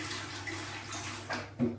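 Water pours out of the emptied tank of an AreteOne 20-litre dehumidifier, a brief, steady splashing stream that swells near the end.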